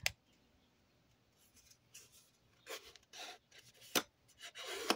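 Paper being folded in half for a 20x20 scrapbook album gives soft, quiet rustles and short crisp creasing scrapes, scattered irregularly over near silence.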